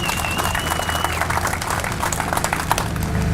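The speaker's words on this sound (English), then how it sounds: "So I'd like to give them a round of applause again, please." An audience at an enduro event claps together in a steady, moderately loud spatter of hands that carries through the whole few seconds, with a high whistle-like tone briefly above it early on.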